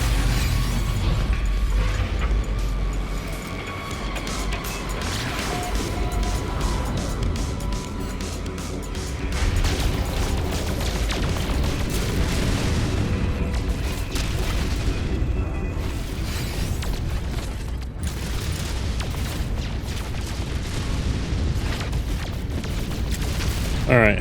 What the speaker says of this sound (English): So let's go shoot some rocks.